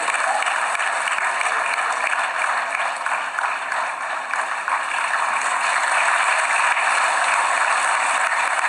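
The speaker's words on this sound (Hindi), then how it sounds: "जोरदार तालियां" A large audience at a national film award ceremony gives sustained, even applause for nearly nine seconds, heard from a distance as a continuous wash of clapping.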